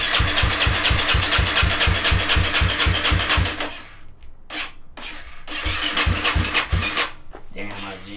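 A KTM dirt bike engine starts and runs with a loud, rapid pulsing thump, then revs and blips in uneven bursts close by while people talk over it.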